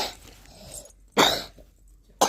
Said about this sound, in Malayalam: ഇതിപ്പോ ചുമയാ.